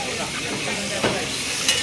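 Prawns cook in a pan at a seaside fish market stall, putting out a steady loud sizzle and hiss with a couple of faint clinks, close, under a muffled market murmur.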